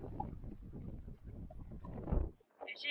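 Strong coastal wind buffets the microphone in steady low rumbling gusts, with one heavier blast near the end, on an exposed stretch of coast near Kalbarri.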